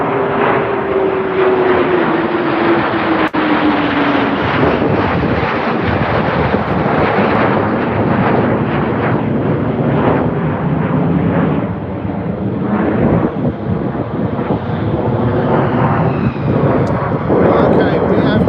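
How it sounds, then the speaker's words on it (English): An airplane comes in to land with its landing gear down, a loud, close, continuous engine roar that holds at the same level throughout, with a voice talking underneath. "So you will see an aircraft land just"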